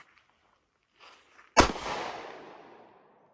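A Bond Arms Roughneck .45 ACP pistol fires a single loud, sharp shot outdoors, its report trailing off over about a second, preceded by faint shuffling.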